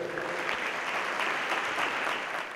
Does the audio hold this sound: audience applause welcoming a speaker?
yes